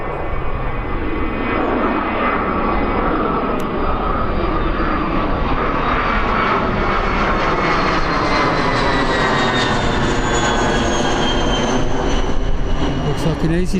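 An easyJet airliner arriving at Birmingham airport, its jet engines roaring steadily and loudly over the whole stretch with a rising whine as it approaches, while a voice talks over it.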